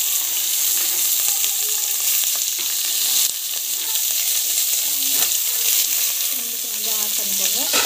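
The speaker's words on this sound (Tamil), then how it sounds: "ஆனியன் போட்டு நல்லா வந்து வதக்கிக்கோங்க" Onion sautés in hot oil in a pan, a loud continuous close sizzle with occasional scraping and stirring sounds, no voices.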